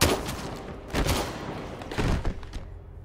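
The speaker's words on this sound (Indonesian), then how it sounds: "tiba-tiba si ayah angkat datang dan langsung menembak dua anak buah Lisa" Gunshots in an action film scene sound as loud bursts of rapid fire, three main volleys spaced about a second apart, each a cluster of sharp cracks with some rumbling echo.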